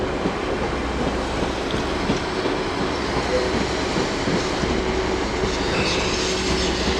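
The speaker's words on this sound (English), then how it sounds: "Off goes 195012 on a transport for rail service to Crewe." Transport for Wales unit 195012 pulls out of Chester station for Crewe with a loud, continuous rolling roar, rail noise and faint wheel clatter filling the whole stretch at a constant level.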